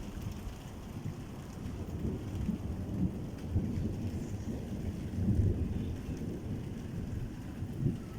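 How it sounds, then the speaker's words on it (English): Steady rain hisses outdoors during a storm in Luton, UK, with low rolling thunder rumbling faintly in the background; the whole scene stays quiet and distant, with no voices. "Can you hear the thunder?"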